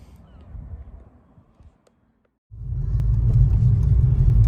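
A low-mileage 1989 Volkswagen Golf GTI Mk2 with the 1.8 8-valve engine rumbles on the road; a quieter stretch drops to near silence before a louder, steady low engine drone picks up from inside the car.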